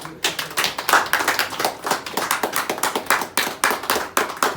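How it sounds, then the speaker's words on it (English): Audience applause at a Hispanic Caucus meeting: steady, dense clapping from a room full of people, close and continuous with no talking. "Give an applause for Martin Vega too, please."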